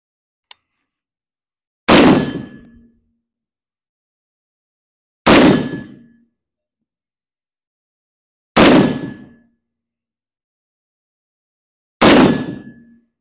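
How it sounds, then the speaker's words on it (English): Four loud, sharp gunshots from a Bear Creek Arsenal 350 Legend rifle being zeroed, evenly spaced about three seconds apart, each with a short ringing decay and silence between, preceded by a tiny click. "This is zeroing the rifle after successful test run."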